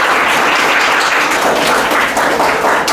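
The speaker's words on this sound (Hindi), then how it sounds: "ज़ोरदार तालियों के साथ सर को वेलकम कीजिए।" Audience applause welcoming an RAS exam topper onto the stage at an indoor talk, a dense, steady wash of many hands clapping that stays loud for the whole stretch with no speech.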